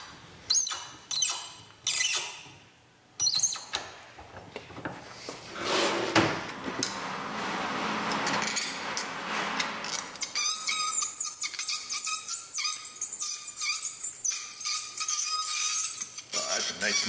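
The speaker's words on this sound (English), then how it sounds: "That's the inductive heater" An inductive heater working on a nut gives a steady high-pitched squeal that holds for several seconds, after some earlier clanks and rustles of pliers and tools.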